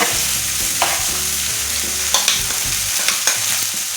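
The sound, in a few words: chicken and green peas frying with spices in a pan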